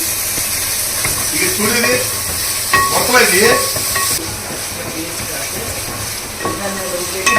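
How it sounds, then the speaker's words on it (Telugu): Ginger garlic paste sizzles loudly in a hot pan while cooking a fish curry, a dense continuous hiss with stirring scrapes and a few clinks, close to the microphone. "టూ టేబుల్ స్పూన్ అల్లం వెల్లిపాయ పేస్ట్ వేసుకుంటున్నాను"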